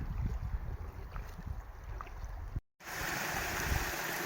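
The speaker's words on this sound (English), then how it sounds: "It just rained, so this waterfall is going like mad." Waterfall on Maple Lake Creek in Algonquin Park running hard after rain, a steady broadband rush close to the microphone with a brief dropout midway, then resuming louder and brighter.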